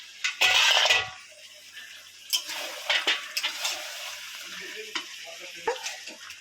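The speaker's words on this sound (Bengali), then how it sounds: "ভালোভাবে খুব সুন্দরভাবে কষিয়ে নিচ্ছি" Chicken frying and being stirred in light spices in a pot, a loud scraping burst at the start, then a soft sizzle under a series of sharp spoon knocks and scrapes, with no voices.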